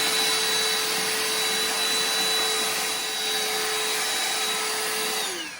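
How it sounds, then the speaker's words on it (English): A Ryobi vacuum cleaner running in a garage, a loud, steady motor whine and rushing airflow held continuously before winding down at the end, with no talking. "I'm going to go get my vacuum machine and clean that up real quick."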